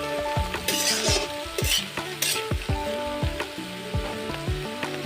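Taro being fried with lentils and chickpeas in a pan, a steady sizzle with repeated scraping stirs of a spoon against the metal, close and continuous, no talking.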